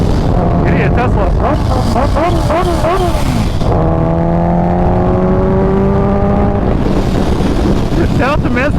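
Kawasaki Ninja H2 motorcycle revving hard on the road near an exotic car meet: loud, close, repeated rising engine sweeps, then a sustained climbing pitch before more quick revs.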